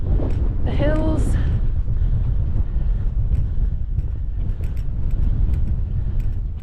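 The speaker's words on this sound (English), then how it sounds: "That wind is definitely chilly." Steady wind buffets an open hilltop on a chilly day, a loud continuous rumble of gusts across the microphone, with a brief voice near the start.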